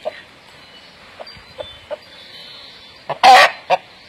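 Hens peck at an ant mound and give soft, scattered clucks, close by and alone. A louder burst of squawking comes near the end.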